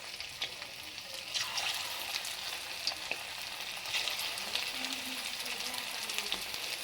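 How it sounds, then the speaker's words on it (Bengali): Chicken pakoras fry in well-heated oil, giving a steady, quiet sizzle and crackle close by, with faint stirring and occasional small pops throughout. "এবার পকোড়ার জন্য হচ্ছে কি চিকেনগুলো ছেড়ে দেবো তেলে একটা একটা করে"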